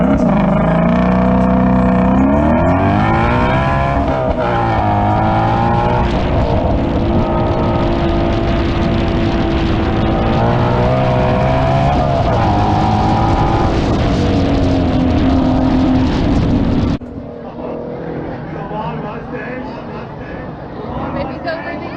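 A Mustang GT350 drag racing at a spectator drag event holds a loud, sustained engine note that climbs through gears before cutting off, with a crowd shouting over it.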